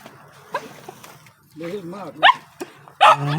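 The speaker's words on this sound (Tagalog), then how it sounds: "Dami mong aso, tay." Several sharp dog barks and yelps come in short bursts, close by, mixed with a person talking over them.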